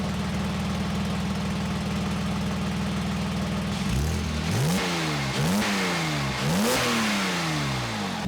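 Porsche 987 Boxster S flat-six engine idling steadily, then revved hard several times in quick bursts, with the exhaust showing a slight blow near the brake caliper; loud and close.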